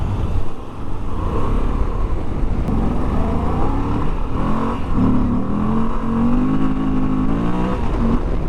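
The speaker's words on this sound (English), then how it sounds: "When you rev the bike, you feel it move a little bit side to side" A 2022 Moto Guzzi V85TT motorcycle engine revving, loud and close, with a rising and falling throaty drone that climbs in pitch toward the end.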